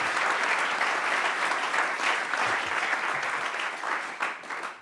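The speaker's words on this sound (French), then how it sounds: "Je vous remercie à nouveau d'applaudir Thibaut, Paul, Patrick et Bernard." Sustained audience applause at an annual plenary meeting, a dense, even wash of many hands clapping throughout with no break, easing slightly near the end.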